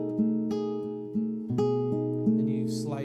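A classical guitar plays a passage from Spanish Romance, with a steady, close arpeggio of plucked notes repeating over a sustained bass and a slide up near the end.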